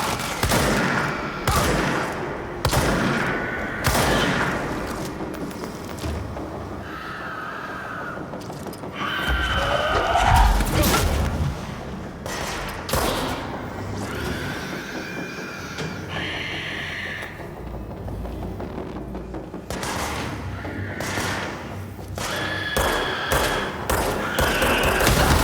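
Shotgun blasts in the game Control, repeated heavy shots throughout a long stretch of combat with other game sounds, alongside occasional speech.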